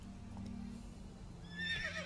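A horse in the Witcher 3 video game gives a short high whinny near the end, fairly faint over a low ambient game background, with no talk.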